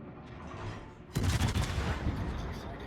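A loud naval gun blast from an Iowa-class battleship in a video game booms in about a second in, followed by a rumbling roll of salvo fire over faint background noise.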